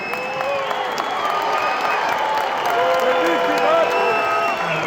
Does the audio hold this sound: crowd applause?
yes